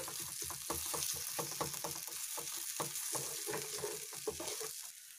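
Ground peas are stirred into appe batter for pea and spinach appe, with rhythmic scraping and stirring strokes over a light sizzle, close and steady throughout.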